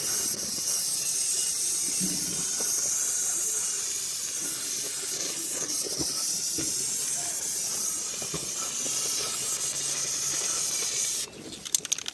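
Ballistol gun paint sprayed from an aerosol can onto a rusty gun magazine: a steady, loud hiss that runs unbroken for about eleven seconds, then cuts off abruptly.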